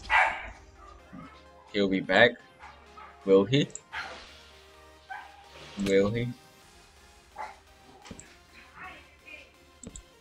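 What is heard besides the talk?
dog barking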